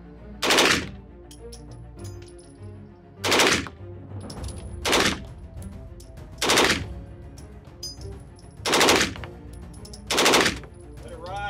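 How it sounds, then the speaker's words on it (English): An MP5 submachine gun fires six loud full-auto bursts on a shooting range, each short rapid string of shots separated by roughly a second or more of quieter pauses. "you've seen the MP5 before on this channel. Today we have the honor to shoot it in full auto"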